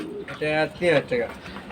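Racer pigeons at a pigeon market give several close, soft cooing calls in short rhythmic bursts, with faint background chatter.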